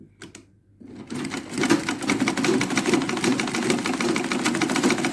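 A sewing machine stitches the edge of a fabric statement headband, starting after a brief pause with a few soft clicks, then running loud and close as a steady, fast mechanical whir.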